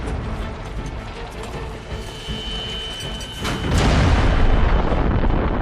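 The German Paris Gun, a World War I long-range cannon, fires. A steady mechanical rumble breaks into a loud, sustained booming blast about halfway through.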